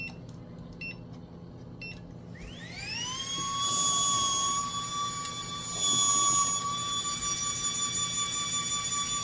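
A brushed DC motor with copper brushes being broken in, running in reverse at 12 volts: a high whine rising quickly in pitch after a few clicks, then holding steady and loud, swelling slightly twice.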